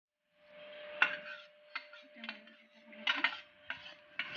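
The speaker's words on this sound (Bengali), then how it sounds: "এবারে গরম মশলা ঘি দিয়ে একটু নেড়ে নামিয়ে নেব" Mochar ghonto, banana flower curry with shrimp, stirred in a pan with ghee and garam masala: a string of sharp metal spoon scrapes and clinks on the pan, fairly quiet, with a faint hum underneath.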